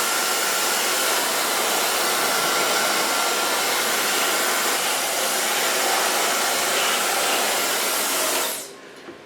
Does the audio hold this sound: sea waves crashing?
no